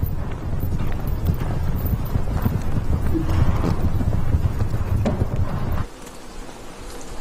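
Lipizzaner horses' hooves clip-clop in a steady, fairly loud rhythm close by in Slovenia, with light wind noise, until the hoofbeats drop away near the end.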